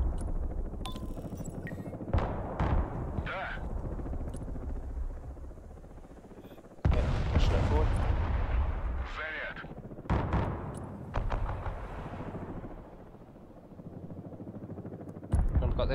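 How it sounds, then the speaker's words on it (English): Artillery fire in the real-time strategy game Broken Arrow: a few heavy, rumbling booms land several seconds apart over continuous battle noise, with people talking over the action. "Watch out, you got artillery coming in."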